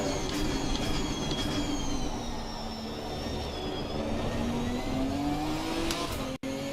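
A racing car in Assetto Corsa Competizione, a Ginetta Cup or GT3 car at Donington, holds a loud steady engine drone through a chicane, its pitch dipping and then rising again, with a brief cut near the end.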